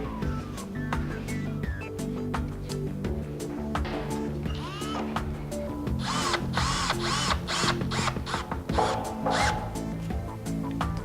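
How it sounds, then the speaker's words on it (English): Electric screwdriver driving screws through washers into a backing board for a stainless steel pegboard, several loud close whirring bursts rising in pitch with brief pauses and clicks between them. "I'm just going to use our electric screwdriver"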